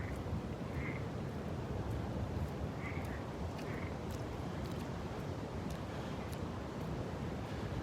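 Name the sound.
frogs croaking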